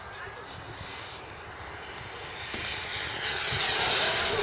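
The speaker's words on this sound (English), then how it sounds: "Notice this aircraft has retractable landing gear" A radio-controlled model jet aircraft with retractable landing gear flies past, its turbine whine rising steadily in pitch and loudness as it approaches, with a voice talking over it.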